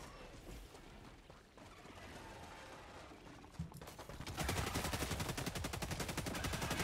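Rapid automatic gunfire in the video game Helldivers 2, quiet and scattered at first, then a loud, steady burst of fast shots in the second half.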